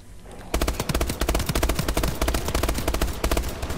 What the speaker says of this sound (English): This AK is just to stun the zombies.